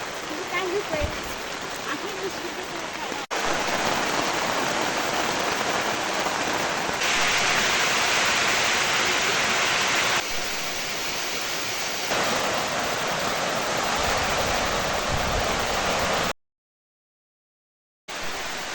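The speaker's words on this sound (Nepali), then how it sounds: "पानी चाहिँ झन् ठुलो परेको छ" Heavy rain pours steadily in a dense, loud hiss that shifts in intensity, then cuts out briefly near the end.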